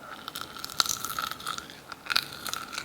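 Crisp, crunchy bites and chewing of air-fried tofu close to the mic, a few sharp crackling bursts with quiet gaps between them.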